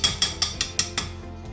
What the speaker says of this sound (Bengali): দিয়ে ভালো করে একটু কষিয়ে নেবো চিকেনটা।